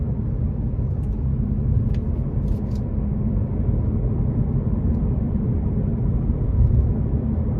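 A 2023 Ford Mustang Mach 1 with a 480 hp 5.0 V8, driven around town at high revs, gives a steady, close, deep engine drone and rumble that holds its level throughout, with no talking.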